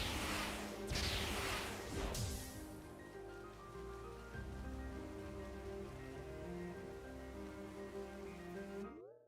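Rain weather in the Sonic Frontiers video game photo mode: a steady, dense patter of raindrops on surfaces, loud at the start with a couple of whooshing sweeps, then settling into a continuous even downpour that cuts off at the end.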